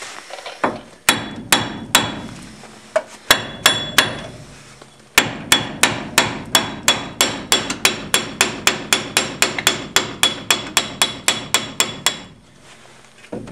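Hammer blows knock a wheel bearing off the spindle of a 1999 Chevy S-10 4x4. A few scattered strikes lead into a long, steady run of loud, close metallic whacks with no talk.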